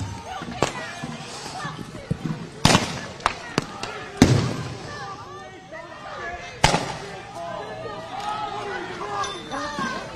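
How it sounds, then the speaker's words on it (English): Flashbangs and tear gas rounds fired by agents at a Minneapolis protest scene, several sharp loud bangs spaced a few seconds apart over crowd chatter and shouting voices outdoors. "agents responding with another round of tear gas and flashbangs"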